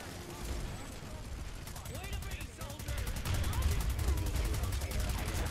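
Steady gunfire in the shooter Planetside 2, with a fast rattling stream of shots, mid-distance and fairly quiet, that grows louder and denser in the second half.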